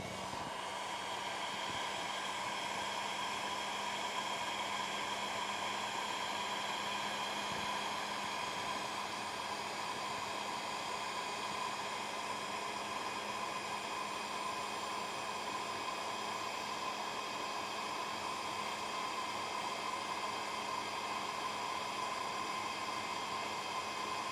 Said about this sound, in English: So take your heat gun.